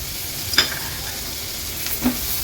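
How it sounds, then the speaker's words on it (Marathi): Chopped onion fries with turmeric and masala in a pan, giving a steady soft sizzle broken by a couple of sharp clinks of stirring. "हळद आणि मसाला कांद्यासोबत छान परतून घ्यायचा आहे"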